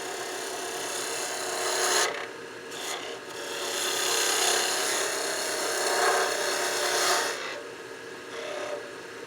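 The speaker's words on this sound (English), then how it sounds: "Then we'll use my spindle gouge on the end here." A spindle gouge cuts the end of a wooden workpiece turning on a lathe. It gives a close, raspy scraping that runs in long passes, broken by a couple of short pauses.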